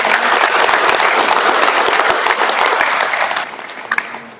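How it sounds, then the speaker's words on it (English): Devotees at a temple gathering in Durban, South Africa give a loud round of applause that holds steady, then thins out to a few scattered claps and fades near the end. "Let's give her a round of applause"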